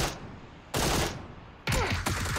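UMP submachine gun fire in PUBG: two sharp bursts of rapid shots with a short gap between them, loud and close, and no voices over it.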